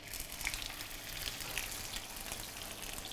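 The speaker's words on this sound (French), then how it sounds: "Alors, on va poêler les poissons" Pollock fillets sizzle in olive oil in a non-stick pan, a soft continuous crackle with scattered tiny pops, faint and steady throughout.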